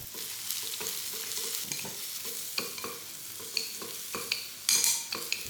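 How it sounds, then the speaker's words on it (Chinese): Scallion whites and shallots crackle and hiss in a little hot oil in a heated pan, with scraping stir strokes and sharper spattering bursts toward the end. "简单的炒一炒就好了"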